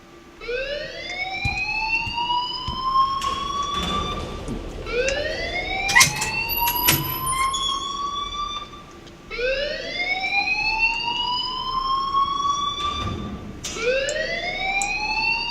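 A school alarm in the video game Life is Strange wails in repeated rising siren sweeps, loud and continuous, with scattered clanks and bumps beneath.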